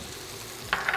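Butter hitting a hot pan beside a seared steak gives a steady, soft frying hiss, then brighter crackling sizzle bursts near the end.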